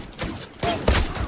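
Gunfire in the Zula online shooter, a few short bursts of shots over about a second, close and fairly loud with no talk over them.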